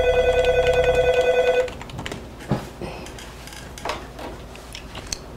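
A telephone rings close by with a steady electronic trill for about a second and a half on a call to an airport manager, then gives way to handset clatter and small knocks.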